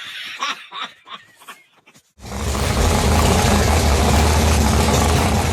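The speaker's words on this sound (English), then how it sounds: "Every engine lover knows that sweet sound of an engine that is ready to race" A race car engine idles loud and close with a steady, deep rumble, cutting in abruptly after a couple of seconds of quiet laughter and voices.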